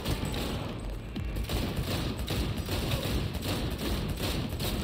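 Enemy gunfire in the video game Cyberpunk 2077 crackles as a dense, continuous burst of rapid shots, loud and close throughout without speech.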